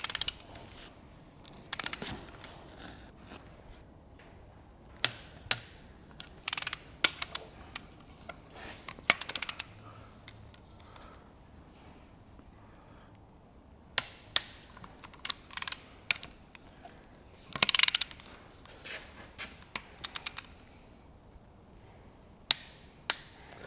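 A wrench torquing the cylinder head bolts on a Massey Ferguson 65 tractor gives close, sharp metallic clicks and clunks in irregular bursts over a low background hum.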